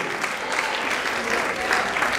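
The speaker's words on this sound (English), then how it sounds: "Clap your hands and give God a shout of praise." A church congregation at a dance festival claps hands together in a dense, sustained round of applause, with voices and shouts mixed faintly underneath.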